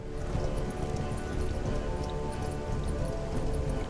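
Horse hooves in the open-world RPG Ertugrul of Ulukayin, a dense continuous patter of hoofbeats under a wash of ambient game noise, close and steady for a few seconds.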